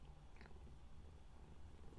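A cat purrs close up with a soft, continuous low rumble, faint and steady throughout with no talking.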